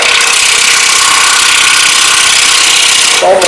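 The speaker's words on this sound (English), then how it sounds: "See why I don't like to sand this stuff." A power sander grinds continuously against a wooden sushi platter, loud and close with an even hissing roar, then cuts off abruptly near the end.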